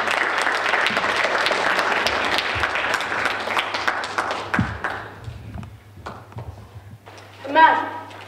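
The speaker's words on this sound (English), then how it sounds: "give a round of applause for Munish" Audience applause after a speaker is introduced at a youth speech contest, dense clapping filling the first five seconds and then thinning out into scattered claps and room noise.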